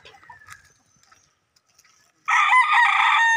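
A gamefowl rooster crows loudly and close in a backyard, one long sustained crow arriving after a few seconds of quiet with faint scattered background sounds before it.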